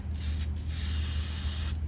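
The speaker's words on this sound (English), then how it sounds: "see if this can's going to even spray" A steady, loud hiss of aerosol spray paint from a can, nearly continuous with a brief dip partway through.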